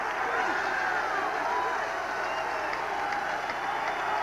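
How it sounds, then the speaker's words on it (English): Football stadium crowd at Nickerson Field during a 1983 USFL game between the Philadelphia Stars and Boston Breakers, a steady broad roar of crowd noise with scattered cheering and applause throughout. "Pretty good sized little crowd here at Nickerson Field, making some noise"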